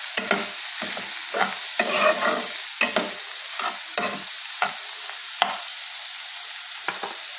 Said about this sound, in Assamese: এতিয়া ভালদৰে লৰাই দিম।